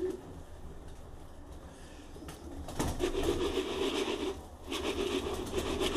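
A hen pigeon that has just laid an egg coos softly in a loft over scratching and shuffling noises, with the low cooing growing louder and steadier midway, heard close up.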